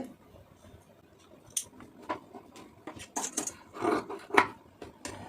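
Scissors snip through blouse lining fabric for a 32-inch lined blouse. Crisp, short cuts come in an irregular series, growing a little louder toward the end, close up in an otherwise quiet room.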